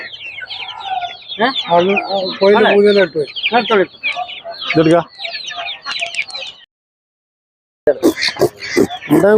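Chickens at a poultry market in Peruvallur cluck loudly and busily in bursts close by, with a brief silent gap, while people talk among them.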